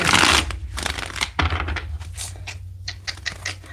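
Tarot cards are shuffled close up, a burst of riffling followed by quick papery slaps and taps, with no talking.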